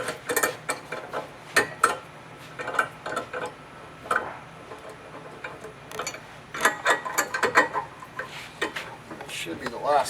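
A hand ratchet loosens bolts on the plate of a bladder replacement job, giving repeated clicking bursts of mechanism noise at close range, broken by short pauses, with voices speaking intermittently.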